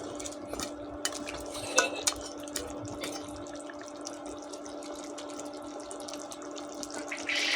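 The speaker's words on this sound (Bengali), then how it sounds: "মাংস আবারও নেড়ে দিলাম।" Goat head meat is stirred in a cooking pan, with continuous scraping and clinking of a utensil against metal, occasional sharper knocks, and a faint hiss of cooking underneath.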